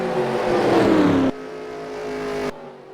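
Race car engines scream in NASCAR Racing 2003 at Daytona, a loud sustained roar with a falling pitch as cars pass, then dropping to a quieter hum before cutting off abruptly.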